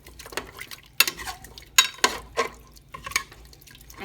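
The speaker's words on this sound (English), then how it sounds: "Give it another stir." Food with garlic is stirred in a pot with a utensil, giving a few scraping, clinking strokes against the metal at an uneven pace, close and moderately loud over faint sizzling.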